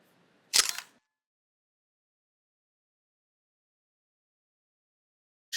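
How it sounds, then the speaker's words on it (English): A single sharp mechanical camera shutter click, close and crisp, followed by long silence and another brief click at the very end. "I'm just gonna release the shutter."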